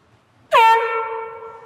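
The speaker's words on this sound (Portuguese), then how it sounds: "Nós já entendemos essa corneta." A single loud air horn blast starts abruptly after a short quiet moment, then holds as a steady, bright, buzzy tone that slowly fades slightly in strength until it ends.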